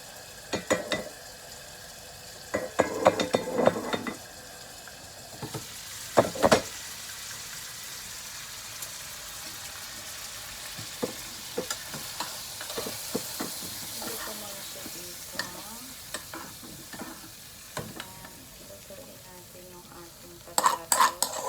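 Potatoes fry in a pan with a steady low sizzle under intermittent scraping and clattering stirring strokes of a utensil, close by and fairly quiet, with occasional louder bursts of activity.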